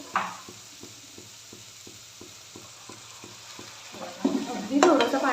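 Tomato masala for a dhaba-style lasooni methi is stirred in a pan with even, rhythmic scrapes, then a sudden splash and hiss as a little hot water goes in near the end.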